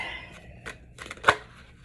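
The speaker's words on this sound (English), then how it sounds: "I just want to do one on camera shuffle for the skeptics" Tarot deck being shuffled by hand, giving soft papery riffles and taps with one sharper snap near the end; close and fairly quiet, with no talk.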